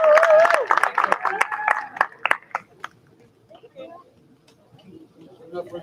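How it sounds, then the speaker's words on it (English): Audience applause at a school awards stream, a short burst of clapping and cheering with voices over it that fades after a couple of seconds into quiet scattered sounds. "Again, a round of applause."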